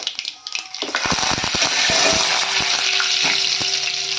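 Cumin seeds, asafoetida and curry leaves hit hot oil for a Marathi cauliflower curry, bursting into a loud, steady sizzle with sharp crackles and pops close up, and no talk.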